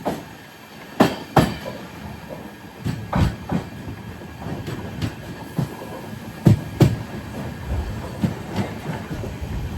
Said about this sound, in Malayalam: കാർവാറിൽ നിന്നും കറക്റ്റ് 6 മണിക്ക് തന്നെ ഇതാ പഞ്ചഗംഗ എക്സ്പ്രസ് എടുത്തു